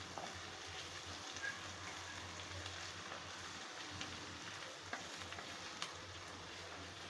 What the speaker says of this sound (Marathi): कांदा नरम करून घ्यायचा, एकदम ट्रान्सपरंट झाला पाहिजे. लाल करायचं नाही आपल्याला इथे कांदा.